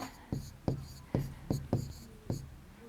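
Writing on a board during a primary school maths lesson on money, heard as about seven crisp, evenly spaced strokes and taps, close and fairly quiet, with no voice over them.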